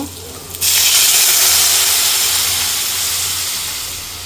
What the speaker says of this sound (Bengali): এখন ঝোল দিয়ে নিব